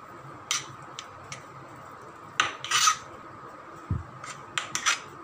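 A spoon scraping and clinking against a bowl while orange-coloured burfi mixture is stirred, giving sharp, irregular metallic taps and scrapes in short bursts over a quiet background.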